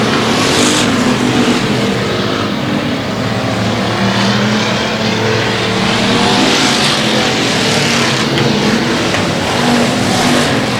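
Factory stock race cars roar around a speedway oval on the final lap of a heat race, a loud continuous engine drone with rising and falling revs as the pack passes, steady throughout with no talk.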